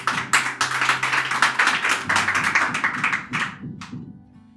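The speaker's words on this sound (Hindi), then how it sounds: "सब तालियां उसी जोश में बजाया जाए तो अच्छा लगेगा" Audience at a Hindi poetry recital clapping in unison, a loud, rhythmic close-up run of claps that keeps a steady beat and then tapers off near the end.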